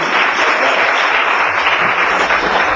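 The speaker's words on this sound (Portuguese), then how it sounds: "Quem recebe, aplaude ao Senhor." Dense, steady applause from a church congregation, loud and continuous throughout with no voices standing out.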